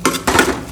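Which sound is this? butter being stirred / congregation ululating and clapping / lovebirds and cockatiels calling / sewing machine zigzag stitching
butter being stirred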